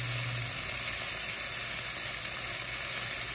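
Burger patties topped with onions and peppers sizzle steadily in a hot pan, a continuous bright crackling hiss at close range with no voices.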